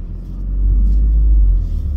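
A Toyota GR Corolla's engine gives a steady low rumble from inside the car while driving, building slightly and holding level over a couple of seconds with no talk.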